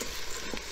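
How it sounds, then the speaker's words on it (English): Rice being stirred into butter, onions and garlic in an Instant Pot, giving a steady close sizzle with soft scraping throughout, no voices. "we're kinda just gonna stir it in with the delicious butter"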